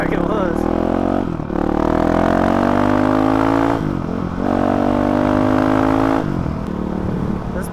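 Honda CRF 450 RL motorcycle with a GET ECU and stock exhaust ridden hard, its engine loud and close, revving up through several gear shifts with rising pitch and brief drops between gears.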